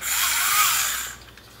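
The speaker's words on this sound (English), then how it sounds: "working handy drill" A small Tamiya toy electric hand drill whirs with a high, buzzing motor whine for about a second, then winds down and stops.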